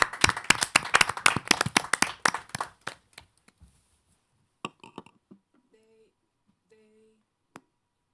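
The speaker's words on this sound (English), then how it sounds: "Maybe a round of applause for her again." An audience applauds a performer at a public gathering about streets, a loud, dense burst of many hands clapping that thins and fades out within about three seconds, followed by a few scattered faint taps and quiet sounds.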